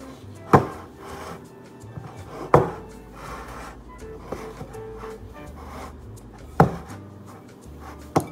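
Masa dough mixed by hand in a bowl, with soft rubbing and squishing punctuated by a few sharp knocks against the bowl, close and fairly quiet, with no talking.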